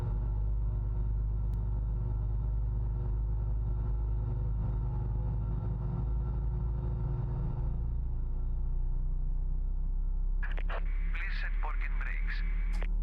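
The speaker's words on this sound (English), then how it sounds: "We have a good engine start." Steady low engine rumble of a Fenix A320 airliner starting in Microsoft Flight Simulator, building under a broad mechanical hum, with a crackly radio-like voice breaking in near the end.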